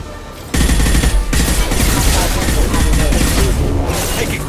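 Sustained rapid gunfire from the Mass Effect 2 video game, with dense automatic bursts and booms that start abruptly and continue loud and close throughout.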